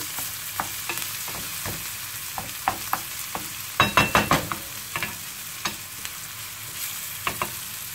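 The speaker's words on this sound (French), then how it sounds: "On mélange bien, on laisse cuire." Pizza filling cooks in a pan under a steady low sizzle, broken by regular scraping strokes of a stirring utensil and a quick burst of rapid scrapes midway, all close and without speech.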